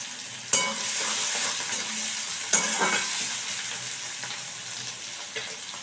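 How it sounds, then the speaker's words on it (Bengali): A steady hot-oil sizzle of onions frying crisp in a pan, broken by a couple of sharp clatters of a utensil stirring against the metal. "এই পেঁয়াজটাকে না একটু মানে বেরেস্তার মতন করে আমি ভেজে নেব"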